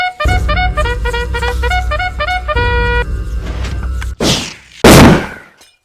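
A wind-charge Withercannon fires in the Minecraft video game. Chiming game tones play first, then two loud, booming blasts follow in quick succession, the second one the heaviest and fading out afterward.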